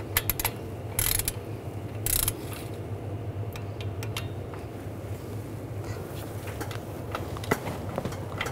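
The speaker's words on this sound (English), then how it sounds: "I'm just going to go back and forth, torquing it, alternating it, and torquing it down evenly." A ratchet torques the water pump bolts on a 2015–2020 Ford F-series V6, giving steady close clicking with a couple of sharper bursts and no speech.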